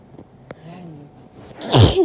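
A woman sneezes once, a loud, close burst near the end of a short sneezing fit, preceded by a quiet breathy intake and faint background noise.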